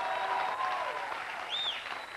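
An audience at an Israeli comedy stage show claps in a steady, dense wash of applause that continues throughout, with faint tonal sounds mixed in.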